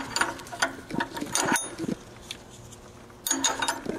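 A double wrench setup strains against a stuck bolt on a second-generation Xterra/Frontier 4WD during clutch replacement, giving close metallic clicks and ratcheting rattles in uneven bursts, then a quiet gap before another loud clattering burst.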